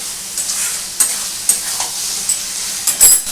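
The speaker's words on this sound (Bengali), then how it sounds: "ভালো করে নাড়াচাড়া করবো দেখে আমি নাড়াচাড়া করছি" Ridge gourd for jhinge chapor ghonto being stirred in a hot pan, a soft sizzle under repeated scraping strokes of the spoon, with a louder clatter near the end.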